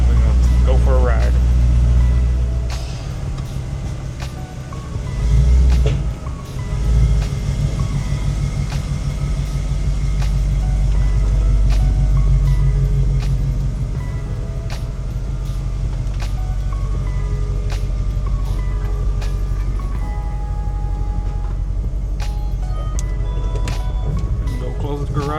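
A Chevrolet C10 truck idles while warming up, a steady low rumble that fills the background throughout as someone talks over it.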